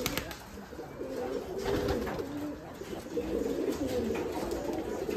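Giribaj pigeons coo in soft, repeated rolling calls, steady and fairly close, over low background hum with no talk.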